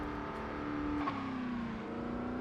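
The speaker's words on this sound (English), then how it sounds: "Cruise control should not be revving all the time." Car engine held at a steady drone while cruise control keeps the revs up, with a sustained tone that dips slightly partway through, continuous and fairly close.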